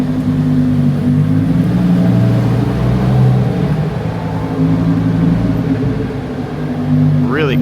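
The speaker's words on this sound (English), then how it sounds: "I'm pretty sure I hear the Huracan pulling up." A Lamborghini Huracan Evo arrives at a Miami supercar gathering, its engine a loud, steady low drone that swells and eases as it rolls up, with a person talking nearby.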